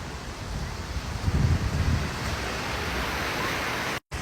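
Steady ocean surf washing up on a beach, a broad continuous rush with a slightly stronger swell in the middle, wind noise on the microphone and a brief cutout near the end.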